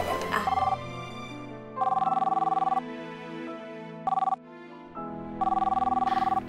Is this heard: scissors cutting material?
no